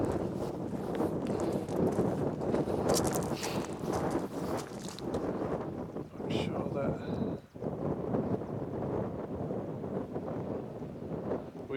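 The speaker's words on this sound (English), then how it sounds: "It's a little windy up here." Wind gusting across an exposed mountain trail on Snowdon by the first of the mountain lakes, a steady rushing buffet against the microphone throughout, with footsteps and voices faintly mixed in.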